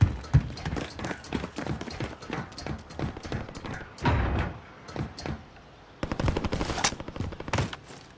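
Incoming gunfire in Call of Duty Warzone comes as a run of sharp, close shots in an irregular rhythm, punctuated by heavier bursts and a loud cluster near the end.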